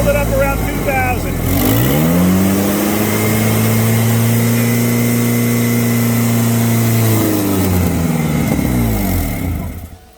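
A car engine cranks and catches, then holds steady at a raised fast idle near 2,000 rpm with a constant droning tone, close and loud, before dropping off at the end; the vehicle is being checked for a plugged intake manifold and exhaust back pressure.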